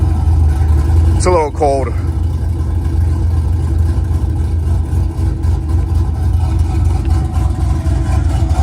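A car engine, fitted with an aggressive exhaust setup, rumbles at a steady loud idle with a deep low drone; someone speaks briefly over it near the start.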